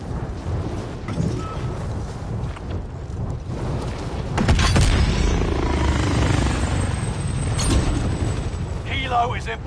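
A helicopter in Call of Duty Warzone gives a continuous rumbling rotor drone under game voices, swelling louder midway amid other mechanical game sounds.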